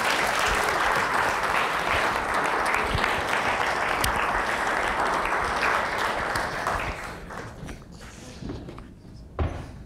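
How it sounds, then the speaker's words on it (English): Audience applause for a speaker at a masterclass event, a full, sustained burst of clapping that gradually dies down, leaving scattered claps and a brief knock or thump near the end. "Let's give him a round of applause"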